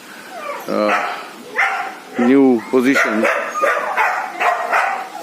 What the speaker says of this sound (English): the dogs are all herded into the inner kennels, and that is why we hear a lot of howling